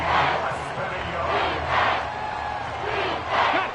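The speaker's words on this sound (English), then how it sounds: "Well, this crowd trying to force a false start here." Stadium crowd in a Madden football video game, a steady roar that swells in repeated surges as fans try to force a false start, heard alone without commentary.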